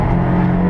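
Toyota MR2 race car engine in a championship race at Brands Hatch Indy circuit, a loud steady drone with a strong low hum, heard close and sustained throughout.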